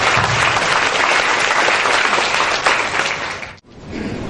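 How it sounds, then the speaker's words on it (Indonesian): An audience at an Islam-Christian debate event claps loudly and steadily in a hall, with a brief dip partway through before the applause carries on. "kita aplaus dulu kepada seluruh peserta"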